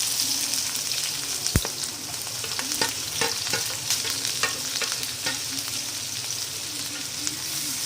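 Finely chopped onion fries in hot oil with a steady close sizzle, scattered pops and a few sharp stirring scrapes in a home kitchen, no voices.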